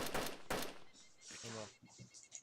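Bursts of DayZ gunfire snap in two quick volleys at the start, followed by scattered shots, mixed in with an excited voice talking over the action.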